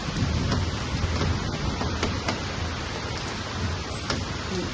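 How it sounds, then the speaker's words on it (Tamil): Heavy rain falls in a Tamil Nadu setting with trees around, a loud, dense hiss with brief crackles of thunder rolling through the steady downpour, close and continuous. "சரியான மழை."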